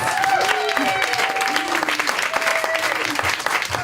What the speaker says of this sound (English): Let's give Gregory Nissen a big round of applause